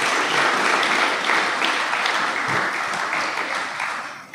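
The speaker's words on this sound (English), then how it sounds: "He deserves a round of applause." A crowd at a school pavilion project launch gives a round of applause, dense sustained clapping that tapers off gently at the end, with no talking over it.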